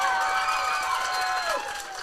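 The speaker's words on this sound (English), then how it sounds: "New Richmond crowd getting into it below us" At a high school football game against New Richmond, a large stadium crowd roars and cheers from below the broadcast booth, a broad sustained wash of voices that holds steady and then eases off slightly toward the end.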